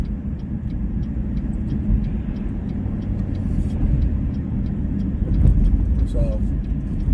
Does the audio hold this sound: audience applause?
no